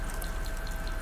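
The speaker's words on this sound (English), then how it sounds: "I don't know why he's washing his hands, like he used something." Water running steadily from a sink tap as a character washes hands in The Sims 4, a continuous close hiss with light splashing.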